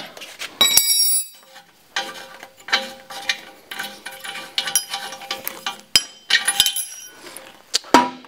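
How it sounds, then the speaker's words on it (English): A 22 mm wrench works an O2 sensor loose from a turbo Subaru's exhaust header, giving a string of close metallic clinks, ratchet clicks and tool knocks in uneven bursts, with no voices. "use your 22 millimeter wrench and take out the O2 sensor"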